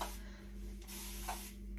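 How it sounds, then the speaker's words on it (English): A handheld misting spray bottle dampens hair at home, giving soft brief hissing puffs over a low steady hum, close and quiet. "a misting spray, something like that"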